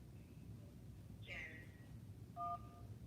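Telephone keypad dialing tones sound during a call-in radio or TV show as callers are taken on the phone lines: a short burst of tones midway, then a clear two-tone beep, faint over a steady background hum.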